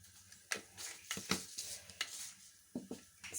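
Mustard seeds dropped into hot oil for tomato sambar sizzle and crackle quietly up close, with scattered stirring scrapes and clinks against the pan.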